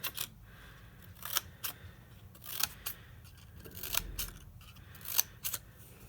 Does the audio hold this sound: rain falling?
no